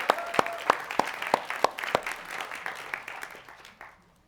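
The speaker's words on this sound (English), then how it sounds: "let's give it a hand of applause" A small congregation at a Sunday church service claps, with a few sharp individual claps standing out before the applause quickly thins and fades.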